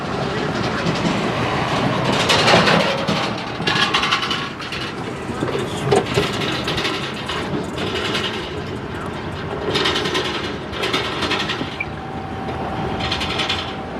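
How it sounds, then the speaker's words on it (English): Iowa Interstate freight transfer train reversing slowly over a railroad bridge, with close, loud rumbling wheels, repeated clanking joints and occasional metallic squeal, steady throughout. "a different Iowa Interstate transfer job started reversing over the Metra Joliet Sub Bridge"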